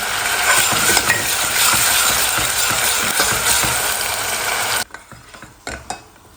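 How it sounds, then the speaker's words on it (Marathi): Bay leaf, curry leaves, ground coconut paste, ginger and green chili sauté in a pan, making a dense, loud sizzle with spatula scrapes and clinks that stops abruptly, leaving a few faint stirring knocks. "तेजपत्ता कढीपत्ता हे वाटण खोबरं आलं आणि हिरवी मिरची हे चांगलं परतून घ्यायचं आहे तीन चार मिनटं"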